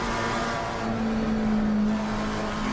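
McLaren and Aston Martin race cars in a racing video game at Silverstone make a loud, continuous engine whine with a sustained tone at steady high revs and no voices.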